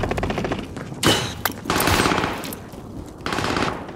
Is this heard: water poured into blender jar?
no